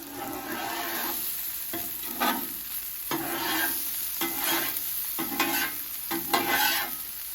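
Onions sizzle steadily on a hot Blackstone griddle while a spatula scrapes and shuffles them in several rhythmic passes, close and fairly loud, with no voices.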